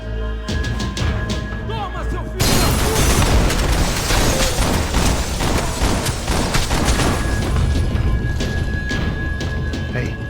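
A building explodes in the video game Max Payne 3 with a sudden loud, broadband blast. It breaks into a sustained roar of crashing, rumbling debris, with game sounds underneath.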